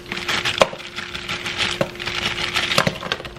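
Frozen broccoli pieces dropped into a simmering soup, several irregular hard clacks and knocks against the pot over a low bubbling background, close and fairly loud.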